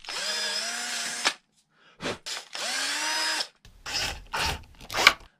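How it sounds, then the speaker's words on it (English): A power drill whirs in several short bursts with brief pauses between, close and loud, the motor pitch dipping as the bit bites in, pre-drilling screw holes in a 3D-printed fishing lure rack. "so I will pre-drill these holes."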